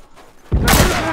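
A grenade explosion in The Last of Us bursts in sharply after a quiet half-second, a loud, close boom that rolls into a sustained crackling, rumbling tail.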